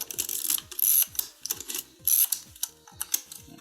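Repeated ratcheting clicks and short mechanical whirs of a Fuji GSW690III medium format camera's film advance, about seven winding strokes in a steady rhythm, close and fairly loud, with no voices.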